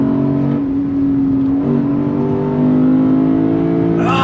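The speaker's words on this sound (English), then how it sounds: "The sound of that V8 is worth the price of admission." A 2024 Lexus IS 500 F sedan's V8 engine accelerates hard, a loud, steady engine note that climbs through the gear and rises sharply again near the end.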